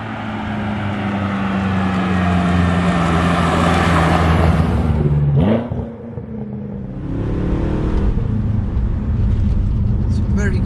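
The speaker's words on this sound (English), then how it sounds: "It's got the blips as well when you just downshift in there." BMW F10 M5 V8 engine droning steadily under acceleration inside the car, then a sharp dip and rev blip around a downshift, followed by the engine pulling again; a voice talks over it.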